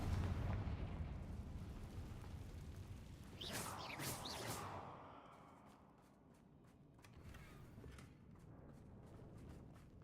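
In Hogwarts Legacy, a Confringo spell sets off a fiery blast with a sharp crackling burst that rumbles and fades, followed by scattered softer impacts over low game ambience.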